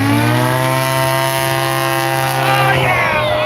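A Super STOL plane fitted with a 300 horse Yamaha turbocharged engine drones loud and close with a steady, buzzing propeller tone that holds at one pitch throughout, then begins to shift toward the end.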